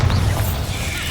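A Bombarda blasting spell goes off in Hogwarts Legacy, a short, loud, booming burst with a deep low rumble lasting about a second.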